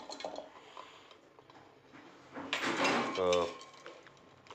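Fresh grated coconut is tipped into a steel mixer jar, making clinks and clatters of metal and utensils that grow louder midway, with a brief rattling scrape and quiet kitchen background.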